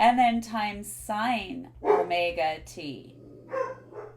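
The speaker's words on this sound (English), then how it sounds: "Sorry about the dogs" Dogs bark intermittently in the background, faint and somewhat distant, under someone speaking continuously while he works through a math lecture.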